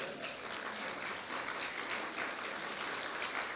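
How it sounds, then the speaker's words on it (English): Steady, fairly faint applause from an audience at a talk, a continuous even wash of clapping with no voices over it. "so you can clap for that."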